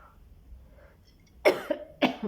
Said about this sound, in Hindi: खांसी अभी भी है